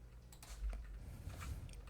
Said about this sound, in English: So, one thing I did not test was my keyboard.